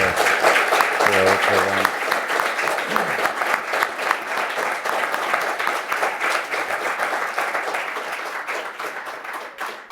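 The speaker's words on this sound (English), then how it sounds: "give a round of applause for" An audience at the 2023 Theodore D. Veru Symposium breaks into sustained applause, a dense wash of clapping that holds steady for several seconds and slowly thins toward the end, with a brief voice heard at the start.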